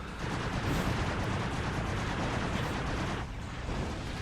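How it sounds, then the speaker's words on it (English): In the Ratchet Deadlocked video game, enemies fire machine guns in a dense, continuous roar of rapid gunfire with booming impacts. It stays loud throughout and dips briefly near the end, with no talking. "Yes, yes, you're firing your machine guns at us"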